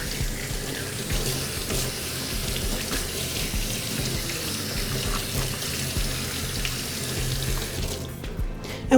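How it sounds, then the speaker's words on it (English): Hands are washed under a running kitchen tap, a steady close splash of water in the sink that continues for about nine seconds without talk, ending with a brief knock. "I'm gonna wash my hands"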